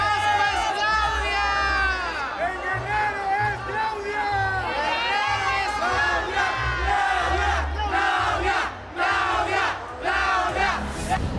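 A crowd at a political gathering cheers and chants for Claudia Sheinbaum, with loud overlapping shouts and whoops carrying over a rhythmic low beat, continuous and energetic throughout.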